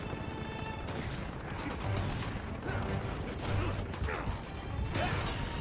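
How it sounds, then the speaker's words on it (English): Video game gunfire in Uncharted 2 (Nathan Drake Collection on PS4): a dense, continuous barrage of shots and mechanical clatter, loud throughout with no pauses. "I'm gonna die if I just keep fighting in middle of the gunfire."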